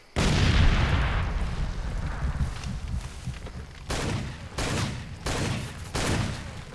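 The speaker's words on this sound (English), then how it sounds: "So ammunition's blowing up." Ammunition cooks off in the Far Cry 2 video game. A loud blast opens into a dense crackling roar, then several more sharp bursts of rapid popping follow at intervals, with no talking over them.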